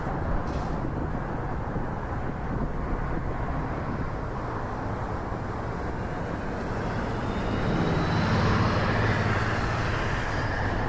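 An Air Canada airliner takes off from runway 24 right at Toronto Pearson, a steady distant jet roar that swells slightly toward the end, heard alone with no talk.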